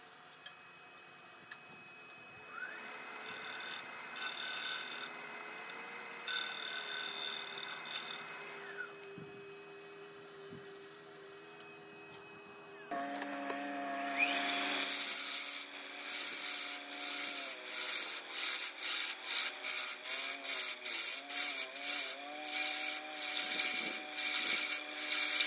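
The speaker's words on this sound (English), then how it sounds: "Here you can see I'm just starting to flatten off some of those surfaces." A rectangular wooden bowl is worked on a lathe as its surfaces are flattened, starting with a steady hum and intermittent scraping, then turning into a louder rhythmic ticking rub as the spinning corners strike the tool repeatedly.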